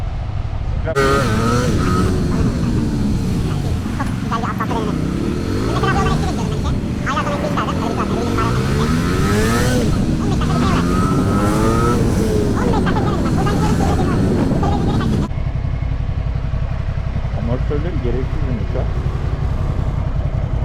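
A Ducati Scrambler motorcycle engine drones loudly and continuously while riding at speed, its pitch rising and falling with throttle amid heavy wind rush, then dropping lower near the end; someone talks over it.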